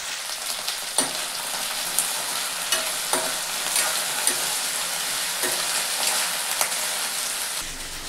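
Okra and curry leaves sizzling and frying in a hot pan, a continuous crackling hiss with occasional sharper pops and stirring scrapes, close up and steady with no talking.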